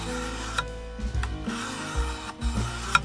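Gesswein diemaker sharpening stone rubbed along a knife blade in long polishing strokes, a soft rasping scrape repeating every half second or so, close and fairly quiet with no talk.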